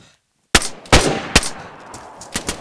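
Gunfire in the video game DayZ: several sharp, loud shots spaced irregularly, starting after a brief silence, with fainter shots trailing at the end and no talk.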